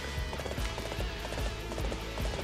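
Rapid clip-clop of galloping horse hooves in the video game Dynasty Warriors 8, steady and close, with a busy background bed of game sounds.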